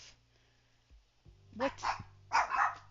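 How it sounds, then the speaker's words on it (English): A dog in the Roblox game Adopt Me barks in two or three loud, close bursts late in the moment, following a quieter stretch of game ambience. "That was the dog."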